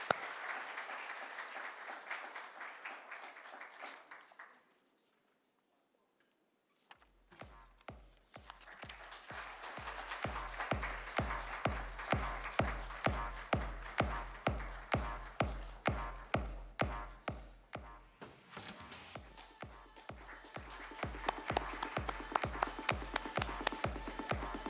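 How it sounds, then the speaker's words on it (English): Round of applause from the audience at an MSME business awards ceremony in Delhi, broad sustained clapping that drops out briefly, then resumes under a steady thumping music beat, with some voices mixed in. "Can we have a round of applause,"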